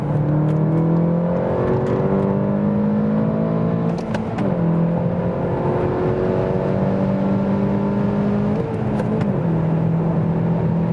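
A 265 hp VW Golf GTI Clubsport engine strains near 7,000 rpm on the Autobahn at about 180 km/h, a steady loud in-cabin drone with rising harmonic tones and brief dips around gear shifts.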